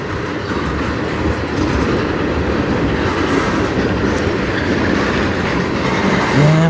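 A CN freight train rolls past at night on the Strathroy Subdivision, a continuous loud rumble of wagons with rhythmic wheel clatter over the rails and a brief metallic squeal near the end.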